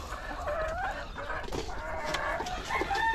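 Chickens in a coop of Dekalb Brown laying hens cluck and squawk continuously at close range while eggs are gathered, a busy overlapping chorus of hen calls.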